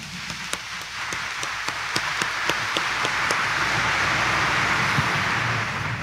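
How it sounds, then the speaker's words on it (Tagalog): A church congregation at a Friday morning Mass in Quiapo claps, spaced individual claps at first building into steady, continuous applause that fills the room. "At ang nananalig kay Jesus Nazareno, pumalakpak ng mas malakas."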